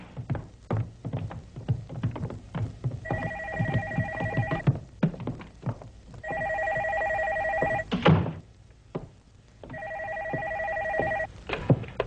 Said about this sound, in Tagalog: Sir, telepono.